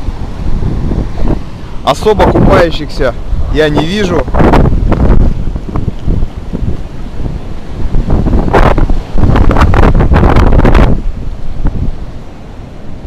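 Strong wind buffets the microphone in heavy gusts beside the rough February sea at Nha Trang, Vietnam, with waves rumbling beneath while someone talks over it in bursts.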